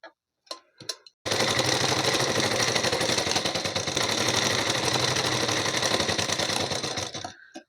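An electric sewing machine runs a double line of stitching along a blouse's front and back seams, a few taps first, then a loud, fast, unbroken mechanical chatter for about six seconds before stopping.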